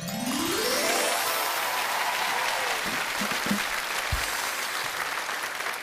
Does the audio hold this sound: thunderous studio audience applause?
yes